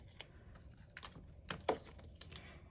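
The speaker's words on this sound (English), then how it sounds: "I'm going to have to go back with my scissors and just snip these real quick." Scissors snip through paper scraps around cut circles while making a Valentine's travel scrapbook page, giving a few quiet, short crisp cuts spaced over a couple of seconds.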